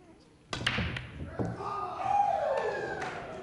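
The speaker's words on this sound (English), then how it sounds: "Great break shot here." Pool break shot in a professional doubles match: a sharp crack as the cue ball strikes the rack, followed by scattering balls clicking against each other and the cushions, with a later thud amid hall ambience.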